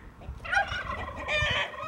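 A rooster calls loudly and close by in a short, rough burst of gobbling, squawking notes lasting about two seconds, with no talk over it.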